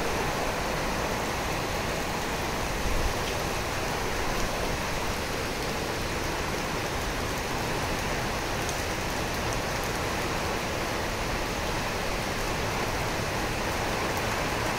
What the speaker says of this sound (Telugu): కుండబోత వర్షం బెంగళూరులో.